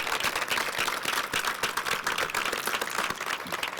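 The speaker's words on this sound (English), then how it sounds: "That is worth a round of applause." A room full of people gives a round of applause at an announcement in New Orleans, steady clapping that stays fairly quiet and distant throughout.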